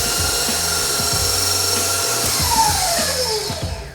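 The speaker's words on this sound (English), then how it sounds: "We're gonna turn the mixture up to about a medium-high speed, and then I'm gonna add the butter one piece at a time." A stand mixer runs at medium-high speed whipping Swiss meringue buttercream, a steady loud whirring motor drone with shifting pitch and low rhythmic churning, heard alone and close.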